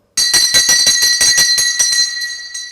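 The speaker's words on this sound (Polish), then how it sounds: "Ale niech to tylko zadzwoni ostatni dzwonek." A school bell in a convent school rings the last bell of the day, a loud close rapid ringing of about a dozen metallic strikes that gradually slows and fades.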